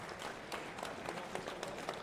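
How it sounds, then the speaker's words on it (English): Applause for competitors at a Pennsylvania auctioneer championship held at a farm show, a fairly faint, steady crowd clapping that carries on through the whole moment. "another big round of applause for all the competitors"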